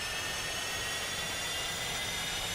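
Steady, loud jet engine roar with a high whine from an F-5E starting up in the DCS flight simulator, a continuous broadband rush holding level throughout with no talk.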